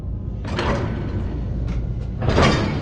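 A heavy door in the video game Skyrim grinds open in two loud sliding pushes with a pause between them, scraping and rumbling up close with no voices.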